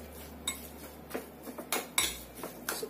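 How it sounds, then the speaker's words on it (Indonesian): Spoon clinking and scraping against a bowl while stirring chicken siomay filling, a series of quiet, irregular taps and scrapes close by with no talk. "Aduk sampai rata"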